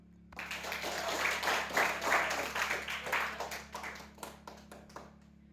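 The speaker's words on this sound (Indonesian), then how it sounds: "Kita beri tepuk tangan untuk teman kita" Pupils in a Christian religious education class clap for a classmate, a lively burst of quick hand claps that swells and then thins into scattered taps.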